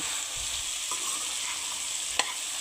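Spoon stirring a mixture of chopped onion, green chilli and chilli powder, a steady soft scraping texture with a brief sharp clink near the end, no voices.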